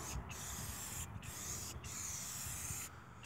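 Aerosol can spraying black satin tire coating onto clean tires of a 2015 Nissan Maxima, a steady close hiss in several long bursts with brief pauses between them, no talking.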